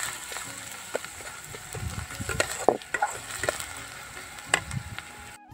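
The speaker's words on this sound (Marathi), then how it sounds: "5-6 हिरवी मिरचीची पेस्ट बनवून घेतलेली आहे मी। आता ही थोडीशी भाजून घ्यायची" Green chili paste made from five or six chilies frying in a pan, a low sizzle broken by scattered scraping and clinking stirring knocks, fairly quiet and close.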